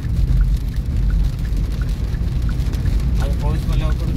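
Steady rain falling around a parked car in Ujjain, a continuous close patter over a low rumble.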